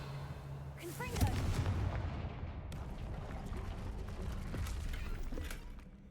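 Spell blasts from Hogwarts Legacy gameplay, the fire-blast Confringo charm: a loud booming burst followed by crackling, rumbling impacts that keep going, with a voice speaking over the top.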